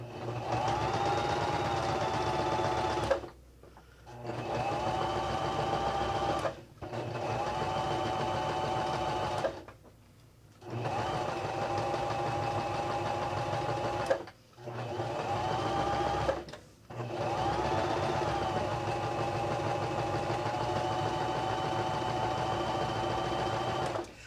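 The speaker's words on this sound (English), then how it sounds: "You got to make sure that your presser foot is down when you sew, or your fabric won't feed properly." A sewing machine stitches fabric for small Christmas stocking ornaments in several steady, close bursts, each a few seconds long and separated by short pauses when the machine stops.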